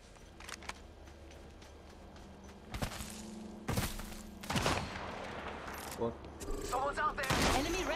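Gunfire in a first-person shooter game, with several sharp bursts and single shots crackling at irregular intervals over a low hum, punctuated by thuds and a few footsteps, and game voice lines in between.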